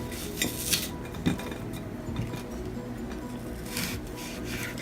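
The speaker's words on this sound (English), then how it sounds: "Next you're going to chop up your apple." A knife slices an apple into pieces for caramel apple slices, giving a few soft cutting scrapes and light clinks against a steady low background hum, with no talking.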